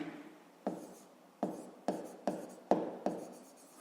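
A pen writes figures by hand on paper during a fifth-grade maths exercise: seven distinct scratchy strokes, close and quiet, spaced irregularly about half a second apart with no speech.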